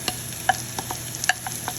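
Garlic and diced red and white onion sauté in a pan, a low steady sizzle broken by a few sharp clicks and scrapes of stirring, close and fairly quiet.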